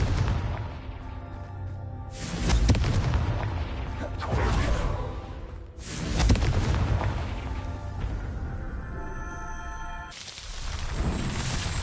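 A Confringo fire spell explodes in Hogwarts Legacy, delivering loud booming blasts with whooshes at roughly four-second intervals over a steady game soundscape, with no talking.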